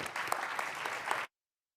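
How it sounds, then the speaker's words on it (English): Audience applause at a NewSpace conference panel on investment opportunities, a dense steady clapping from a crowd that lasts just over a second and then stops abruptly. "give them a big round of applause"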